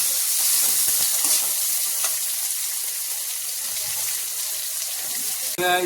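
Green chilies and onions sauté in a pan, a close continuous sizzle with occasional stirring clinks, ending in a short sharp scrape or clatter.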